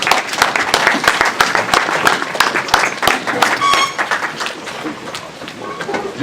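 A church congregation claps and cheers as the service begins, with dense, sustained applause throughout, many sharp hand claps over a crowd murmur and scattered voices.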